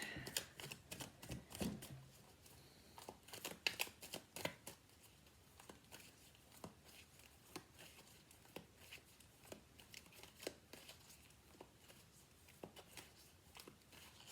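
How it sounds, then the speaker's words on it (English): A worn deck of tarot cards being shuffled, soft quiet riffles and flutters close by, busier at the start and then settling into scattered light slaps and papery brushes. "I will be shuffling them again now."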